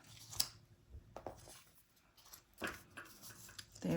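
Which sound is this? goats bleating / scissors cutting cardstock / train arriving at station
scissors cutting cardstock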